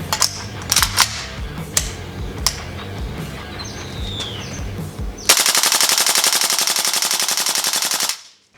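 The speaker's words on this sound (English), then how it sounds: "Sir, that's an AK, an assault weapon. The preferred weapon of our enemy. It makes a very distinctive sound when fired at us" A Tokyo Marui AKM airsoft rifle with a 310mm inner barrel fires a loud, rapid full-auto burst of about three seconds, each shot clattering in an even mechanical rhythm, after scattered clicks and handling noises.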